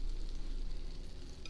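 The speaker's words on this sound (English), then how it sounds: "And that's what you want, that nice sizzle." Browned butter with a teaspoon of vanilla just added sizzles in a hot pan freshly taken off the stove, a steady close crackling hiss that continues throughout with no talking.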